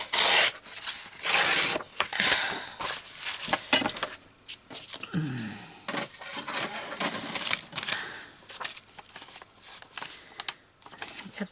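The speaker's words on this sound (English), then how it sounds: "I'm going to have to tear this first." Paper scraps for a handmade journal are torn and handled up close in loud, irregular ripping and rustling bursts, with brief pauses between tears and no talking.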